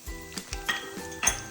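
Peanuts, chana dal, urad dal and dried red chilies fry in oil for semiya upma, with a spoon knocking against the pan in quick clanks over a light sizzle, close by.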